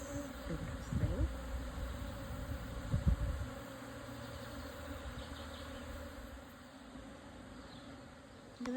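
A swarm of aggressive bees hovers in front of their hive, a dense steady buzzing close by and moderately loud, with a few louder low thumps near the start.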